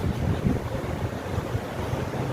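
Wind blows in strong, steady gusts outdoors beside a canal at a fishing spot, a continuous rushing roar buffeting the microphone with no voices.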